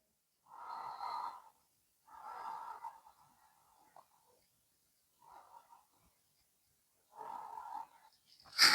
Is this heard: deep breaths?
yes